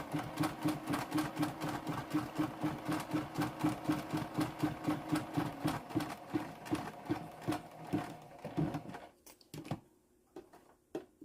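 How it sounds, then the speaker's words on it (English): A sewing machine runs a steady, rapid stitch line across a pocket to close a zipper, loud and rhythmic for about eight seconds before slowing into a few separate stitches and stopping. "sew your zippers shut, and start your stitch line"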